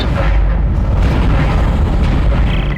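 Asteroid defense guns in Dead Space fire with loud, continuous booming blasts, a dense unbroken roar of heavy impacts that fills the whole stretch.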